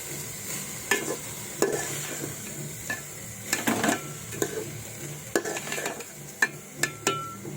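Rice and fried lentils being stirred in a pot for khichuri, with soft scraping and intermittent knocks of a spoon against the metal over a faint low sizzle, quiet and close.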